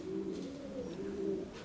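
A breeding pair of Scandaroon pigeons coos in a low, steady, rolling murmur, soft and continuous throughout the clip with no speech.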